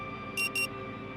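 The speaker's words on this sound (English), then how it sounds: "The frenetic sound of the alarm nudges you back to the prison." Two short, shrill electronic alarm bursts ring out back to back over a quiet hum in the video game Rue Valley.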